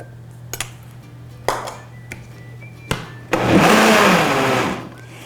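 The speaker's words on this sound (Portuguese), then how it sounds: "Vou dar uma ajudinha aqui no liquidificador." A kitchen blender whirs through cake batter for a tsunami cake in a loud burst of about two seconds, after several sharp clinks and knocks of ingredients and utensils being handled.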